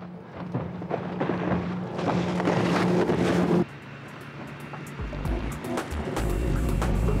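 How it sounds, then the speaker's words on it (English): A powerful boat roars across the water, engine and spray loud and close, then the rush drops and a choppier wash continues. "The boat literally flies across the surface"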